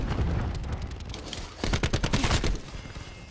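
Call of Duty Black Ops 4 gunfire crackles nearby. A softer patter opens, then a loud, rapid volley of shots rattles out in a dense burst before tailing off.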